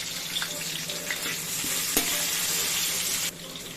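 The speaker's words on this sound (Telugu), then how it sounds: "ఆనియన్స్ వేస్తున్నాం. ఒక 3 ఆనియన్స్ సరిపోతాయి." Sliced onions fry in hot oil for chicken dum biryani, a steady close sizzle with a few soft stirring scrapes and one sharp knock, easing slightly toward the end, no voices.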